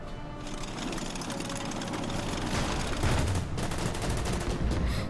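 Gunfire from a Panzerkrieg campaign in the Caucasus in the strategy game Order of Battle: a dense rattle of rapid shots over a constant battle din, with a heavier burst about midway.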